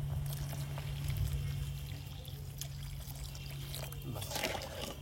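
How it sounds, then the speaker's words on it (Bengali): Water poured into a pot of Bengali sour fish curry makes a low trickling, splashing pour that runs steadily for several seconds, fairly quiet and close. "এবার জল, জল দিয়ে দেবো।"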